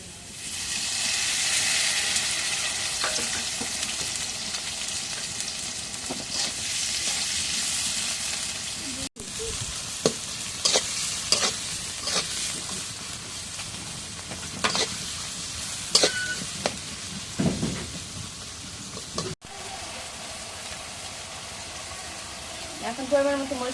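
Pieces of layer chicken frying in hot oil with a continuous sizzle, broken by stirring scrapes and clanks, while voices talk over the cooking at times.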